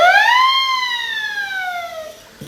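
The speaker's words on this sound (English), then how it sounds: "Police sirens." A live foley police siren from a stage radio play wails in one long, loud tone that rises briefly and then slowly glides down and fades, heard up close and alone.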